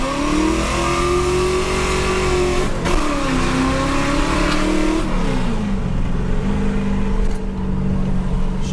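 A loud 1972 Dodge Charger with a 5.9L Magnum V8 drives and revs hard, its deep engine note rising and falling through several gear pulls, heard close and continuous from inside the car.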